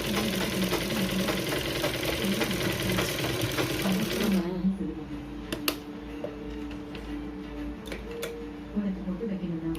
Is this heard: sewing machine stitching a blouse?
yes